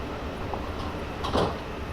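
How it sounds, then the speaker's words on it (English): London Underground S8 stock train doors sliding shut at Northwood station in Train Simulator 2019, a quiet background hum followed by a brief thud and rattling slide of the doors about two-thirds through. "We'll close the doors ourselves."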